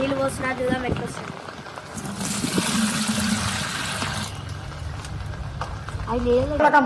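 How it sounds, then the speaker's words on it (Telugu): Water is poured into a crab hole during a crab hunt, making a gurgling, trickling splash up close, with people talking over and around it for most of the stretch. "ఇప్పుడైతే నేను ఇంటికి వెళ్ళకుండా నీళ్ళు పోస్తున్నా."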